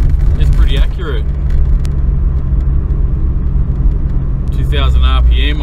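A car cruising at about 50 km/h, just under 2000 rpm, heard from inside as a steady low engine and road rumble with a person talking over it at the start and end.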